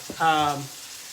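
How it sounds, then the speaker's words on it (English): A pork tenderloin stuffed Cubano-style sears and browns in a hot pan, a short close burst of sizzling with no talk. "we're just going to sear that, brown it a little"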